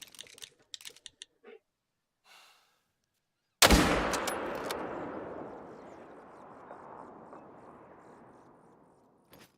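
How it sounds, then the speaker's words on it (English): A single loud hunting rifle gunshot in theHunter: Call of the Wild, a sharp blast followed by a long rolling echo across a lake that fades out slowly, with a few soft clicks beforehand. "Let's go ahead and shoot this guy."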